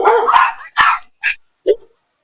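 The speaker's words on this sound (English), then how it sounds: "No barking!" A dog barks at fireworks in four sharp, loud, close barks, the first pair run together with yelps before short gaps separate the rest.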